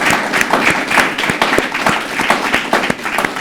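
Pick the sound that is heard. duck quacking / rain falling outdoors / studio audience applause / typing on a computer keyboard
studio audience applause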